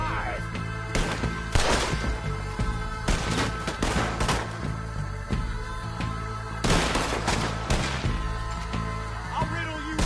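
Gunfire erupts in the action film RED 2, dense bursts of rapid shots and heavy impacts layered over a loud, busy soundtrack, with two especially intense volleys early and again later.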